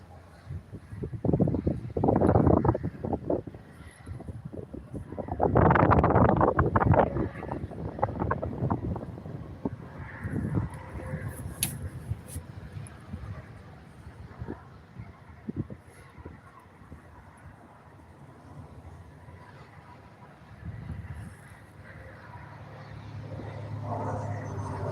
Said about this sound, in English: At least the wind has died down a bit.